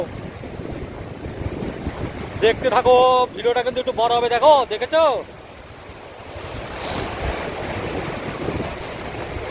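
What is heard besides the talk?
strong water current with waves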